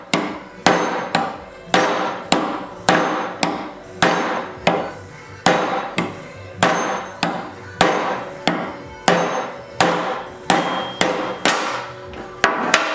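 Someone hammers a rear wheel bearing out of a 2005 Yamaha Grizzly 660 ATV with repeated sharp metallic blows. The strikes are loud and close, landing in a steady, slightly uneven rhythm of about two per second with no talk.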